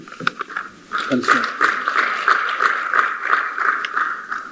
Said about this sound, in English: I think that clap is not enough